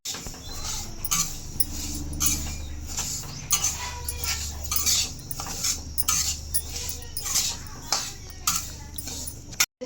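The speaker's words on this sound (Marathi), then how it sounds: "तीळ भाजायला टाकलेले आहे" Sesame seeds roast in a hot kadai while being stirred, giving repeated scraping and clinking strokes of a metal spoon against the pan over a low steady hum.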